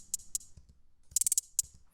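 Crisp trap hi-hat ticks from a Trap Essentials sample pack play alone in a sparse pattern, single hits spaced apart, then a quick rapid roll of five, then one more hit.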